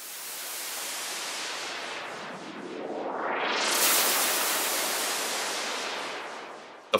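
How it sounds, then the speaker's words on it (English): White-noise riser effect from Ableton's Analog synth: a loud, steady hiss whose filter sweeps upward and opens into bright, full noise, then holds and slowly thins before a sharp click at the end. "we'll add two white noise effects, a rising sound and a falling sound,"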